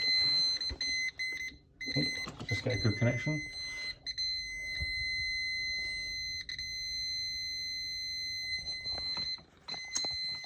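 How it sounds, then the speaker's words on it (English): Steady electronic beeping from an electrical tester checking a dedicated boiler supply line, a continuous tone running through most of the clip beneath a man's brief speech and faint handling noise. "the beeping is a good sign."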